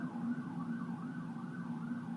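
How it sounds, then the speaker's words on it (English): An emergency vehicle siren wails steadily in the background as it passes, with its rising and falling tone carrying clearly over low traffic rumble and no one speaking. "A siren went by."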